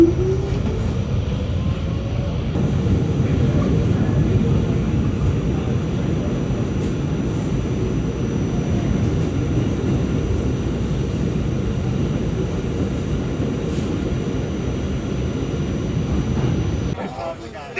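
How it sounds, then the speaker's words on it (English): A New York City Q Express subway train of R-32 cars rumbles loudly and steadily along the Brighton line track, a continuous low roar that cuts off abruptly near the end. "This is the Brighton Beach bound Q Express train."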